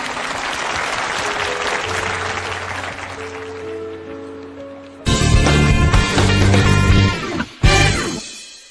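A studio audience on a television mediation show breaks into loud, sustained applause to welcome a guest, entering abruptly after a soft musical passage, then briefly dropping out and returning.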